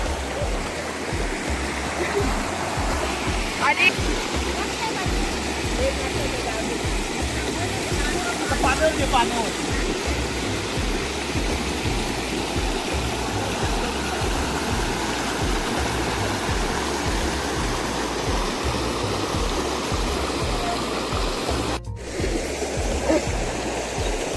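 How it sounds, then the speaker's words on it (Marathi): Continuous rushing of borewell water flowing out during a village morning bath, a steady close burble and splash that never lets up, with a voice speaking faintly over it. "पाण्याचा आवाज पाहू शकता तुम्ही."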